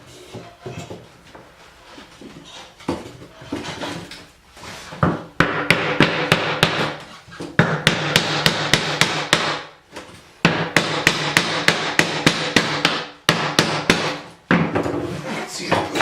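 Hammer blows on oak during a closet repair, filling a one-inch gap: bursts of rapid, fairly loud knocking at close range, with quieter scattered taps and handling noise at first, then dense runs of strikes separated by brief pauses.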